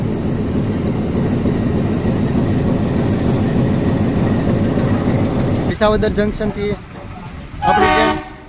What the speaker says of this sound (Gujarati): આપણી ટ્રેન ઉપડી ગઈ છે